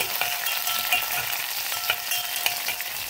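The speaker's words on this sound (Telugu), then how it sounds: "ఆయిల్ హీట్ ఎక్కిన తర్వాత అందులో ఆవాలు, జీరా, పచ్చిమిర్చి వేసి కాసేపు వేయించుకోవాలి" Mustard seeds, cumin and green chillies fry in hot oil in a pot for Bombay chutney, making a continuous close sizzle dotted with sharp pops and crackles.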